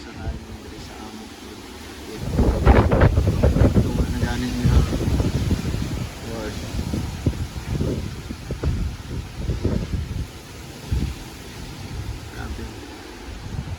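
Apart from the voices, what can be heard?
strong typhoon wind during Typhoon Odette (Rai)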